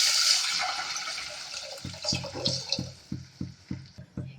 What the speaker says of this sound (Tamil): இப்போ நான் கரைச்சி வச்சு ரசத்தை ஊற்றிக்கலாங்க.